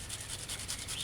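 Quarter piece of onion rubbed against a grater for puree, a soft continuous rasping scrape, faint and close, with no talk.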